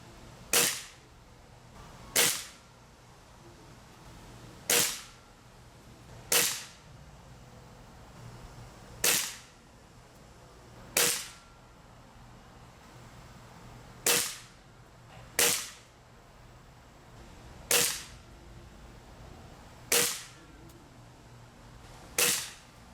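A Bear River 1200fps air rifle fires shot after shot, about a dozen sharp cracks spaced every couple of seconds, each loud and close against quiet outdoor background.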